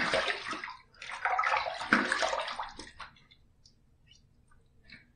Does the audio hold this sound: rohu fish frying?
no